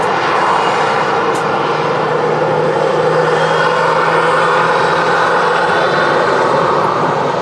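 Ryanair airliner arriving from Barcelona rolls off the runway at Manchester Airport, a loud, steady jet engine roar with broadband rumble holding constant throughout, nearby and without speech.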